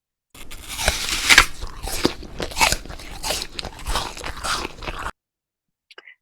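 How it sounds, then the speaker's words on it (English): Crisp, crunchy bites and chewing on an apple, close up, a steady run of wet crunches for about five seconds, then silence. "And this is a person chewing apple sounds."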